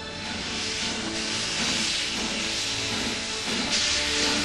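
A steam locomotive at Steamtown National Historic Site in Scranton, Pennsylvania, releases a loud, continuous broad hiss of steam, close and sustained, with a brief surge near the end.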